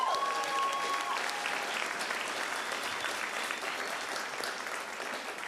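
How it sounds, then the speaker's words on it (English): A school assembly audience at Seabury Hall claps in a broad, sustained round of applause that starts full and slowly thins out, with no talking on top. "Give them one more round of applause."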